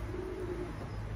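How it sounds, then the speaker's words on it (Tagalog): A racing pigeon gives one soft, low coo, close but faint against a steady background hiss. "napakagandang ibon"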